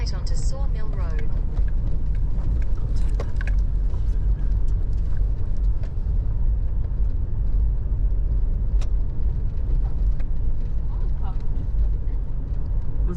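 Cars passing on a country road in the Clare Valley, South Australia, give a loud, continuous low rumble of traffic and engine noise heard from close by. Voices talk over it.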